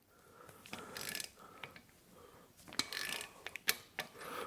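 A torque wrench tightens an 8mm bolt to 15 foot-pounds on a 2016-or-later Camaro during a compressor installation, giving quiet ratcheting clicks and scrapes with a few sharper ticks, close and faint.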